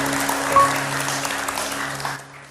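Audience applause at an indoor talk, a soft, even wash of clapping over a low electrical hum that fades out toward the end with no speech.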